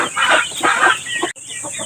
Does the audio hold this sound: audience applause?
no